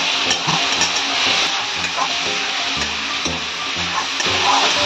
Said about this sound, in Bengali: নারকেল দিয়ে দিচ্ছি। আমি এইগুলো একসঙ্গে কষাচ্ছি।